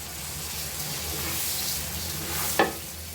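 Rough village-field rice grains, just over a kilo, fry in a pot for chicken dum biryani, giving a close, continuous sizzle and scraping stir, with a sharp clatter near the end.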